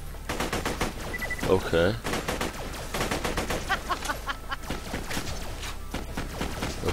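Rapid gunfire bursts in the video game Borderlands: The Pre-Sequel on Xbox 360, sharp repeated shots close up and fairly loud, with someone speaking briefly over the shooting.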